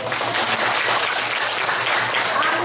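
Steady, dense audience applause at a family or community gathering, a continuous wash of clapping hands held at an even level across the whole stretch, close and full, with a low hum running underneath and no speech.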